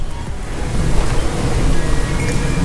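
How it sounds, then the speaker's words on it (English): Steady wind blowing hard in Miami, roaring and buffeting against the microphone, with a broad rushing noise throughout and no voices. "See how windy it is."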